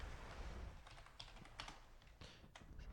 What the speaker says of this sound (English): I don't want to hear people typing in the chat